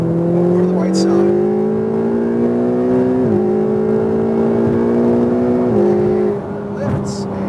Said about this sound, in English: And now full throttle up the hill, over to the right side.